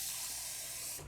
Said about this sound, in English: We're gonna put a little bit of water in there,